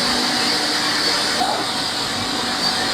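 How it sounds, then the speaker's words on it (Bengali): A steady loud mechanical whir and hum from an automated coiler machine winding plastic pipe in a factory, constant drone with a faint tonal whine and no clear breaks. "এটাকে কয়লার মেশিন বলে, তো এটাতে কয়েল করা হইতেছে, এভাবে কয়েল করা হয়।"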